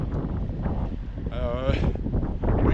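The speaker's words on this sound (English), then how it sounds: "it's very windy" Wind buffeting the microphone during an outdoor walk in Maine, a rough low rumble and gusty roar that swells and subsides throughout, with a person talking over it.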